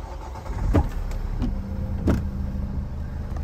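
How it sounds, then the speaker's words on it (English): A 2016 Renault Master van's engine rumbles low and steady close by, with a couple of brief mechanical clunks and no talking. "we'll just start the van up now"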